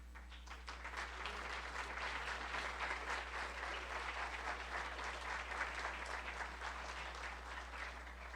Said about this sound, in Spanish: Un fuerte aplauso para todas, todos y todes